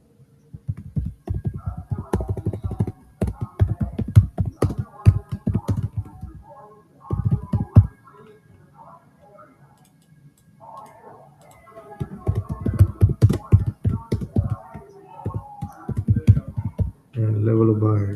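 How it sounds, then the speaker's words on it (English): Rapid, irregular bursts of keyboard typing clatter close up, with quiet gaps between the runs of keystrokes. "Go ahead and type that."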